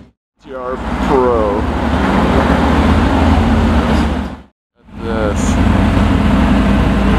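Mercedes-AMG GT R Pro car passing loudly, with a sustained broadband engine and road roar that cuts off briefly and then returns, while a nearby voice talks over it.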